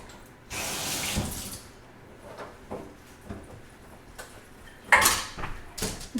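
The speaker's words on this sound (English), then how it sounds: "Let's just give myself a little rinse real quick." Running water from a kitchen tap while hands are rinsed beneath it, bursts of splashing flow starting and stopping with faint clinks, fairly close and moderately quiet, with no talking.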